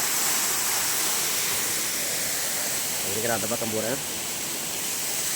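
Steady broadband roar of a small waterfall, Siriya Kutralam at Kalasapadi near Arur, continuous and close, with someone speaking briefly over it.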